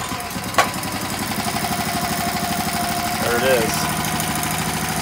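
Briggs and Stratton 5hp outboard motor on a small boat, started cold with the choke pulled, catches and settles into a steady throbbing run, close and loud, while someone speaks briefly over it.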